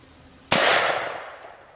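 A single small-calibre firearm shot at target practice: one sharp, loud crack that tails off into a lingering decay, with no talk.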